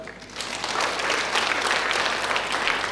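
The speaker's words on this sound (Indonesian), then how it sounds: "Tepuk tangan dulu ya" Training participants at an ESQ basic-level session clap together in steady, dense applause filling the room, rising slightly after a brief softer start and holding at an even level throughout.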